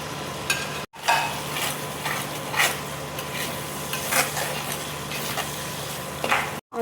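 Masala with Kashmiri chili powder and a splash of water frying in a pan, a dense close sizzle with frequent scraping stirs and two brief dropouts.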